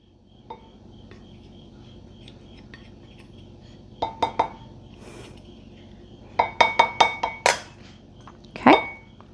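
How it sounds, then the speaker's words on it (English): A metal whisk and spatula clink and scrape against a slow cooker crock holding beef and broccoli sauce, making sharp, scattered ringing taps in small clusters over a quiet background with no talking. "let me grab a whisk and a spatula because I want to get everything out of there"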